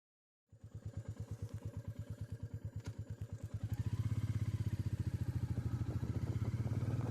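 A Royal Enfield Meteor motorcycle engine starts and thumps in a steady single-cylinder beat close by, then revs up to a louder, faster throb as riding begins, with no talk.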